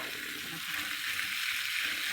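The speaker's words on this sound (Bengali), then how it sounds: "এবার আমি টমেটোটা দিয়ে দেবো।" Tomato dropped into a hot frying pan gives a soft, steady sizzle with faint stirring, fairly quiet and close, no voices.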